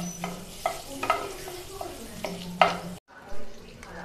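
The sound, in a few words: bay leaves and dry chillies sizzling in butter and oil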